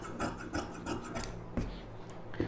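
Scissors slicing through silk cotton blouse lining fabric along a V-shaped neckline, a soft papery rasp in a few short rhythmic snips, close and fairly quiet with no talking.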